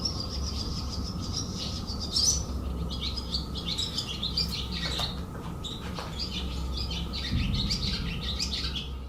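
Birds chirp and tweet in a steady, busy chorus over a low ambient hum, with several sharper calls rising above the chatter. No one speaks.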